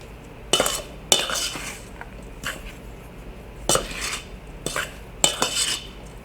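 Dry bread ingredients, including salt, baking soda and herbs, being stirred in a bowl for beer bread: a series of sharp utensil clinks and scrapes against the bowl, coming in irregular bursts over a quiet background.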